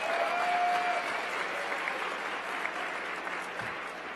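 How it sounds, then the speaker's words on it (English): A banquet audience applauds the servers with sustained, dense clapping from a crowd, steady at first and gradually thinning out over about four seconds. "Let's give them a round of applause."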